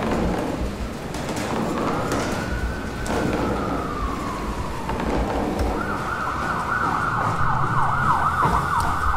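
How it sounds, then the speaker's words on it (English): Wailing alarm sirens sound inside the horror video game SOMA, one tone sweeping slowly up and down, then a faster warbling siren, steady and moderately loud over a low ambient rumble. "I love the sirens, great."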